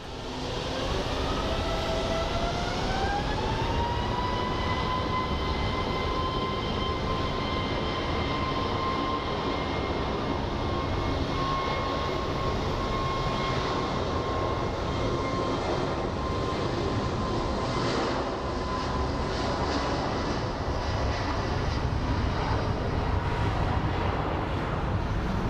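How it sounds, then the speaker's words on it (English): An A321neo jet airliner departs from Sky Harbor International Airport in Phoenix, a loud sustained engine roar with a rising whine that settles into a steady, distant-sounding rumble throughout. "So the A321neo departing for Boston."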